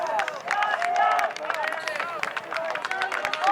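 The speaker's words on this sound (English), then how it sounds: "you can see and hear Georgia College clapping themselves up" Players of the Georgia College team clap for themselves during a college DIII championship final against Brandeis: quick, uneven claps over a steady hum of crowd noise and voices.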